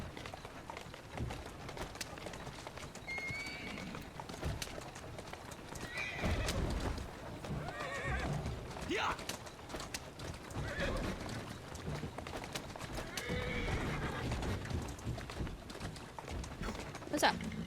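Horses pulling a carriage in the video game Assassin's Creed Syndicate, with steady clip-clop hoofbeats, loud neighs and whinnies, and a continuous rolling drive; a person talks over much of it.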